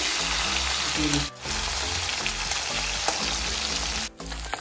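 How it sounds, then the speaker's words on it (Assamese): Bhangon fish half-fry in hot oil with a loud, steady sizzle and faint tonal sounds underneath. The sound cuts out briefly twice. "মাছকেইটা ভাজি লওঁ মাছখিনি পূৰা ফৰফৰীয়া নকৰোঁ হাফ ফ্ৰাই কৰোঁ"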